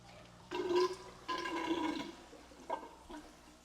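A siphon draws water out of an aquarium during a tank cleaning, producing short gurgling, slurping bursts of flowing liquid in several separate spurts, close and moderately loud.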